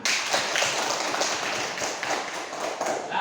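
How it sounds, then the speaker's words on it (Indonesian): A classroom of students claps hands in a steady, dense burst that runs without a break, fairly loud and close, with no talking over it. "Iya, tepuk tangan."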